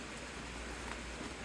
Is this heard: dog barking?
no